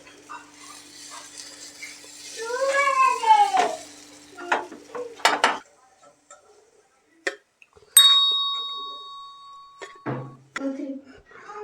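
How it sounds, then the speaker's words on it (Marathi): Kothimbir vadi, coriander fritters, frying in a pan and being flipped: a soft, steady sizzle with scraping stirs, a few clinks and a brief tone, while a voice talks over part of it. "एक साईडनी मस्त फ्राय झाल्यात क्रिस्पी झाल्यात पलटी करून घ्यायच्या"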